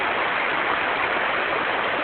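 Steady, dense rushing water from a waterfall surrounded by jungle-like growth along a bike trail, a continuous broadband roar with no pauses and no voices.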